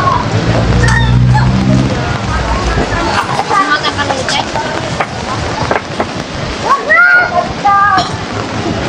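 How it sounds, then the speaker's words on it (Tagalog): Rain comes down on a street in the Carmen Planas Street flea market in Tondo, Manila, a broad wash of hiss beneath constant crowd chatter and nearby voices. "ito na naman ang ating makikita ngayon kasi umuulan nga no"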